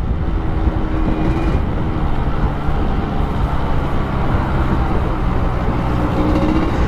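A Yamaha RX two-stroke motorcycle with a sleeved bore runs steadily, a loud, continuous engine drone close by with no speech.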